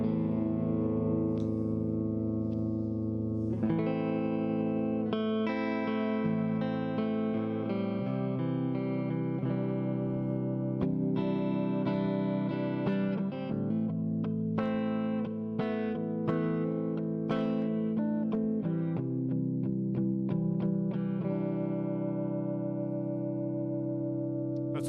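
Electric guitar played through the clean channel of an Orange Crush 35RT combo amp with reverb added, on the rhythm pickup of an SB100; steady chords and picked notes ring continuously at a fairly loud level, with no talking.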